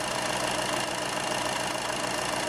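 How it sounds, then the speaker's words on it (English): A diesel engine idles at a steady, even speed after starting, a continuous close-up hum with no talk. "Start the engine and let it stabilize to idle speed."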